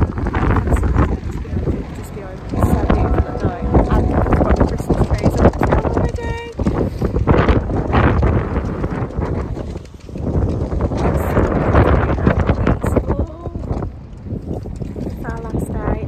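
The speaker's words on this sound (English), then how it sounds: "It's the wind, it's so windy." Gusty wind in Iceland in November roars and buffets the microphone with heavy low rumbling throughout, loud and unbroken, with people talking underneath.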